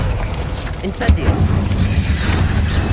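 A fire spell cast in Hogwarts Legacy bursts out as a sudden whoosh and boom around the one-second mark, with a rumbling low roar carrying on afterward over busy game ambience.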